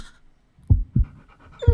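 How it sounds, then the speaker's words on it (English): A big brown dog panting close by, three strong bursts of breath with short gaps between them, loud and alone with no talking. "Norville, that dog is big and brown"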